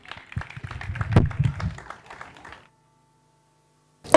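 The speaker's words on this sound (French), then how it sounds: "MDG, que je vous demande d'applaudir, s'il vous plaît" Audience applauding at a live spoken-word event, a close burst of clapping that swells and fades over a couple of seconds, then silence before another loud sound cuts in.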